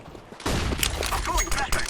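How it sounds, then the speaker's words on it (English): A flashbang grenade goes off in a tactical shooter game with a sharp burst, followed by crackling, rattling blast noise under game chatter and radio-style voice lines. "I'm throwing flashbang."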